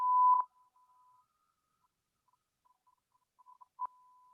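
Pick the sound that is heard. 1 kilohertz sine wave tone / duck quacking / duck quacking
1 kilohertz sine wave tone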